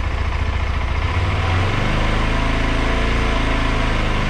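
A KTM 390 Adventure motorcycle engine idles steadily, then its pitch rises and holds as it is revved to around 3000 rpm, a continuous mechanical drone with no talking.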